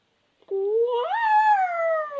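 A single drawn-out meow that rises then slowly falls, clear and close, lasting under two seconds after a moment of silence.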